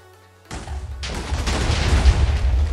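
A Minecraft TNT explosion goes off after a brief quiet lead-in, a sudden loud blast that swells into a second, bigger roar and a long rumbling tail, with no talk over it.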